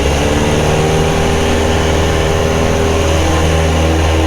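A 2010 Carbon Cub SS light aircraft engine running at full power for takeoff, a loud, steady droning roar with strong low harmonics heard close up and alone.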